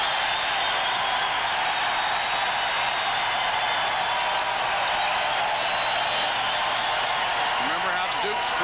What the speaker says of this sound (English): Crowd trying to get into it